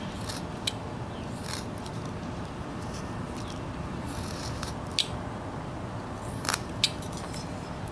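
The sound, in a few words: scissors cutting hair on a carved figure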